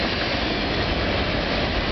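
A CN freight train with tank cars and boxcars rolls past in Burlington, Ontario, giving a loud, steady, broad rumble of wheels and cars with no break.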